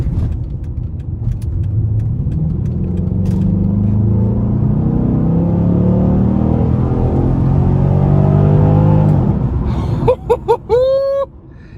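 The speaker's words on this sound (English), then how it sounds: "I'm gonna gas it here" A 2009 Dodge Challenger SRT-8 with a 6.1 liter V8 accelerates hard from inside the cabin, a loud rising engine roar building for about nine seconds before cutting off, then a short whining squeal.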